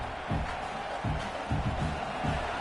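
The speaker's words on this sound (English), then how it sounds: "The roar of the crowd trying to fuel this defense to keep them pinned in their own end" A stadium crowd at a Clemson vs Penn State college football game roars in a steady, distant wash of noise with rhythmic swells, as the home fans try to fire up their defense.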